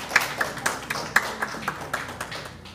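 Scattered, fairly sparse clapping from an audience at a Korean economic forum debate as the moderator, a lawyer, is introduced, with separate claps landing in a loose, uneven rhythm over nearly three seconds at moderate loudness.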